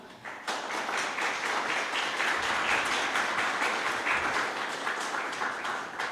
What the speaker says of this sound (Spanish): solicito un fuerte y caluroso aplauso